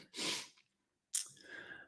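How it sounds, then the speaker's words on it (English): A breathy intake followed by a sharp, explosive sneeze, close and fairly quiet, with a short pause between. "I feel like I'm going to sneeze here."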